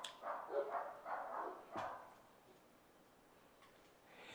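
A dog barks in a quick run of several loud, close barks over the first two seconds, then falls quiet against faint background noise.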